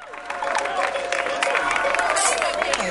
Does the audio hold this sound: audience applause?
yes